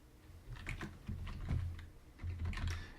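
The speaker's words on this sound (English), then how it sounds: "every time that I either hit the hyphen to show a syllable" Computer keyboard typing, hyphen and spacebar keys tapped in a music notation program, a series of soft irregular clicks at moderate distance, fairly quiet with no talking.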